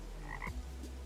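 A toad from the Terraria Calamity mod video game gives a single short croak, close and clear over a low steady game hum.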